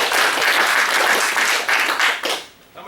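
An audience bursts into loud, dense applause that holds steady before tapering off near the end.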